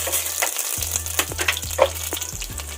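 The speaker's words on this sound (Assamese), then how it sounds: "এতিয়া মই ইলাচি দিছোঁ, লং দিছোঁ, দালচেনি দিছোঁ আৰু শুকান জলকীয়া দিছোঁ।" Cardamom, cloves, cinnamon and dried red chilli frying in hot oil for pulao, a continuous crackling sizzle punctuated by repeated sharp pops and spatters, close and fairly loud.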